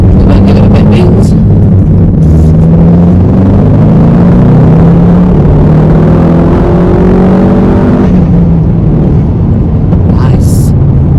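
A Ford Focus ST MK4 with Revo Stage 2 software pulls hard up a slip road, its engine note climbing steadily through the revs, loud and continuous with road noise, easing briefly before building again.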